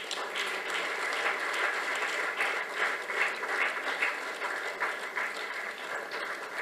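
Sustained audience applause at a Tamil film event honouring actor Sasikumar, a dense steady wash of many hands clapping at moderate distance, with no voices on top.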